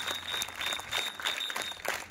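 A group of schoolchildren clapping for themselves, a short burst of quick, uneven hand claps close by, with a faint high tone running through it.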